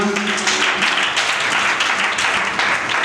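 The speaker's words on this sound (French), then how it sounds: "On acclame pour le Seigneur." Church congregation applauding in praise, a steady dense wash of many hands clapping at once, loud and sustained throughout with no talk over it.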